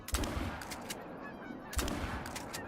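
Two massive flocks of geese honking overhead in the hunting game Call of the Wild, dense layered calls washing over the scene in two swells, loud and near, with no talk.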